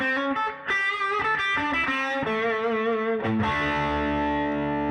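An electric guitar plays with an extra gain boost pedal stacked on the amp overdrive. Loud, saturated notes bend and slide, then end on a long sustained chord.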